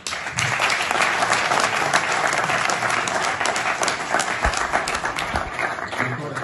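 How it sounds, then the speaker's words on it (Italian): A crowd at a ceremony honouring someone's career milestone bursts into steady, sustained applause that stays full and even throughout, with a faint murmur of voices underneath. "Un applauso."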